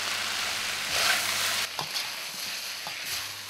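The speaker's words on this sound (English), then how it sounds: "Put our omelette in the pan and the remaining spring onions." An omelette with spring onions and sesame oil sizzles in a hot pan, a steady loud frying hiss with a few stirring scrapes and clatters nearby.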